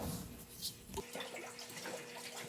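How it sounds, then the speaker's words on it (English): Liquid antibiotic is emptied into a water bucket, giving a faint, brief splash and pour of water, quiet and close. "Empty the antibiotic into the water."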